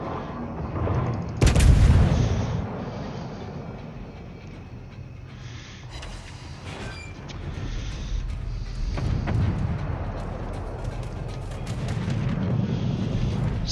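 Warship guns in World of Warships fire one heavy, booming salvo early on, followed by a long rumbling tail and a second, softer round of distant thuds later.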